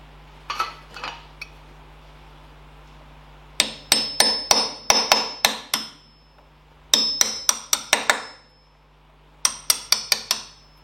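A hammer strikes a soft aluminium washer in several rapid clusters of sharp, ringing metallic taps, close and fairly loud, separated by short quiet gaps.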